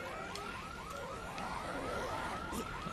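A car alarm wails on in the video game Dead Rising 3 in evenly repeating rising chirps, fairly faint and distant beneath game ambience, with a few brief clicks scattered through.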